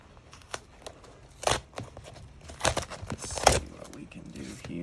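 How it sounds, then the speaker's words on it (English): A knife slicing open the packaging of a Spyderco knife during an unboxing, heard as a few sharp scraping and tearing strokes with crinkling plastic in between, close and fairly quiet. "Let's get this sucker cut open."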